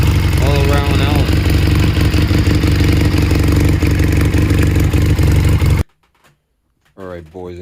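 A Chinese-made motorcycle engine runs loud and close with a busy, clattering idle for about six seconds, then cuts off abruptly before a voice speaks.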